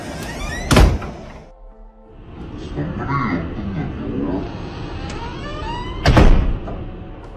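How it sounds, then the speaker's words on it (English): A door opens and later shuts with two heavy thunks a few seconds apart, amid room noise and a voice speaking in between. "Suddenly, the door opened on its own for no reason, and when he approached it, it closed by itself."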